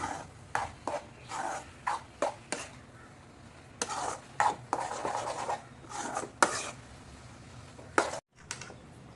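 Egg masala being stirred into Yippee noodles in a pan, a series of close scraping and rubbing strokes in uneven bursts, with no talking.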